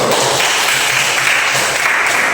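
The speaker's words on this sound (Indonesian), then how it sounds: "tepuk tangan dulu" Pupils in an Indonesian classroom teaching session break into a short burst of group clapping, loud and continuous throughout.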